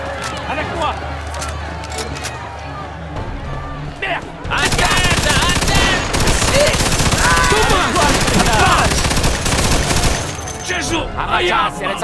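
Rapid machine gun bursts in a Mafia II shootout, a sustained loud clatter of fire with sharp cracks, preceded by shouting voices and scattered shots.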